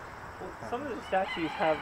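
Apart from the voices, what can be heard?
rooster crowing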